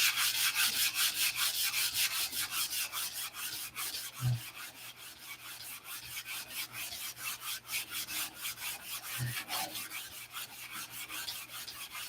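Steady back-and-forth sanding strokes on a shaped wooden flap for an aircraft, a rapid, even rasping rhythm that runs throughout at close range, with a couple of faint low knocks.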